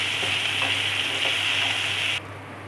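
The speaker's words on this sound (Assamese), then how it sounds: "এটা ডাঙৰ চাইজৰ বিলাহী সৰু সৰুকৈ কাটি লৈ দি দিছোঁ আৰু ভালকৈ ভাজি ল'ম" Chopped large tomatoes sizzle steadily in hot oil in a pan while being fried for an Assamese mustard fish curry, a close, even hiss that is cut off abruptly near the end, with no talking.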